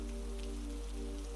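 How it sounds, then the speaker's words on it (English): Rain falling on the cobblestones of a Venice street at night, a soft steady patter of scattered drops with a low constant hum beneath, even and gentle throughout. "you can hear the soft tap of each raindrop landing in them"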